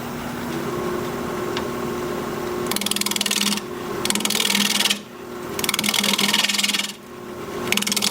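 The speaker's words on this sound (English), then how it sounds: "Turning at 1200 RPM." A bowl gouge hollowing a dusty mystery wood bowl spinning on a lathe at 1200 RPM, with a steady motor hum under loud rasping cuts that come in repeated passes with brief gaps between them.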